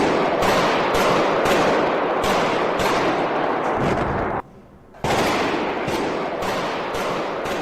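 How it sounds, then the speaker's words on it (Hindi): Rapid bursts of automatic weapon fire inside a Moscow concert hall during an attack, loud and dense, with a brief pause near the middle before the shooting resumes. "आप गोलियों की आवाज भी सुन सकते हैं"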